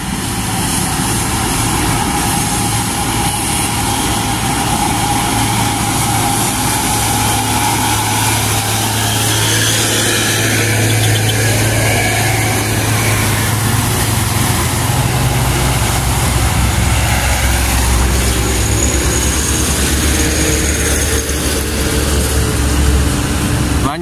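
A heavy truck from the ASM fleet rumbles past on an uphill road in Bogor, a loud continuous engine drone swelling as it nears and shifting in pitch as it goes by.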